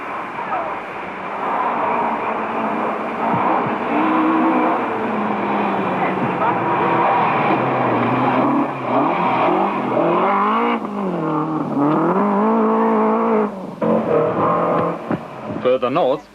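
A Ford Escort rally car driven by Jeff Briscoe on a stage of the 1984 NSW Rally Championship, its engine loud and close, rising and falling through the gears in sustained revving, with commentary talk over it.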